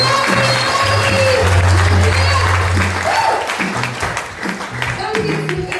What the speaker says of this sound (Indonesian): Berikan sorak-sorai buat dia